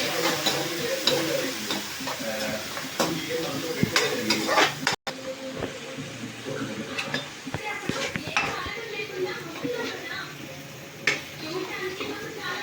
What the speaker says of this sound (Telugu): ఇలా పోపు అంతా తయారైపోయింది కదా, వేగిపోయి